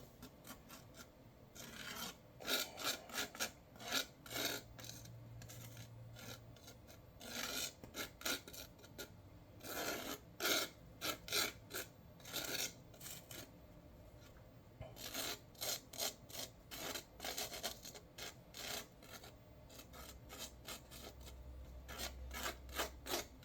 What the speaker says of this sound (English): I'm just scraping plastic